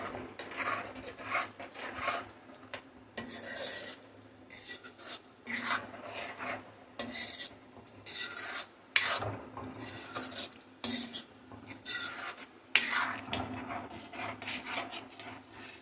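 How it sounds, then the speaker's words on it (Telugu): A spoon scrapes and stirs yogurt into Kashmiri dum aloo in a pan, with repeated rasping strokes in an irregular rhythm, fairly quiet and close, with short pauses between bursts and no talk. "కొద్దిగా పెరుగు వేసుకొని చక్కగా కలుపుదాం"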